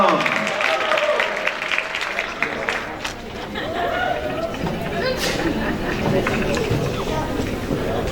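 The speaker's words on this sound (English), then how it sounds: "Ladies and gentlemen, we're going to clap her as she comes." Conference audience applauding a presenter as she walks up to the stage, steady crowd clapping with some chatter mixed in throughout.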